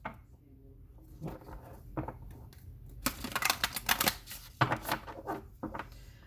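Tarot cards shuffled by hand nearby, a quiet start building into quick riffling bursts and soft slaps of the deck.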